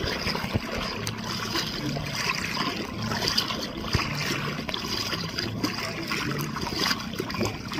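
Sea water at a beach in Malbago during stormy weather, a steady broadband wash of waves and splashing around swimmers, continuous and fairly loud with no clear speech.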